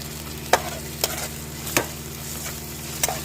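Ginger and garlic paste fries in a pan under a low steady sizzle, punctuated by four or five sharp spatula strikes against the pan at irregular intervals, with no voices.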